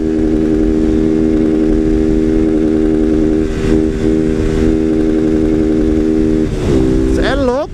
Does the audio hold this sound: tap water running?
no